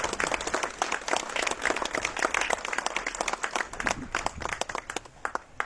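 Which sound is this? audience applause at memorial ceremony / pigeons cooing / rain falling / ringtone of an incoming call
audience applause at memorial ceremony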